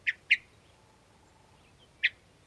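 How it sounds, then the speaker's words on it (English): Brief call notes of a hermit thrush: two quick high chips close together, then one more after a pause, faint and isolated against a quiet background. "You can tell these are just brief little call notes"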